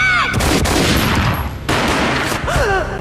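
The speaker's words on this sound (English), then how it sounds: "A gunshot boomed and she fell down in slow motion." Gunfire in the Max Payne video game: loud, close booming bursts amid a dense wash of game sound and music, with a sharp jump in level partway through and tonal sweeps at the start and end.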